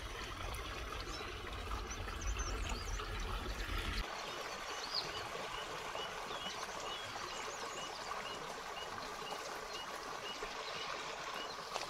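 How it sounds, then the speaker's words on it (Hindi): A mountain stream in a village near Almora, Uttarakhand, rushes and trickles steadily in a constant wash in the morning while faint bird calls chirp intermittently in the distance. "ये मंसारी नाला है ये देखिए, इसकी आवाज़ आपको आ रही होगी, कितनी मधुर आवाज़ आ रही है।"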